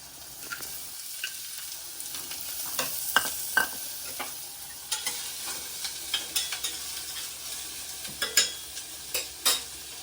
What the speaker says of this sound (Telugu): ఉల్లిపాయ పచ్చిమిర్చి వేసేస్తున్నాను